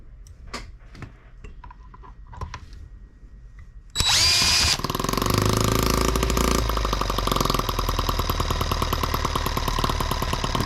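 The M18 engine, fed by a homemade vaporizer carburetor on denatured alcohol, starts after a few light handling clicks, then runs loud and close with a steady, rapid, rhythmic chugging.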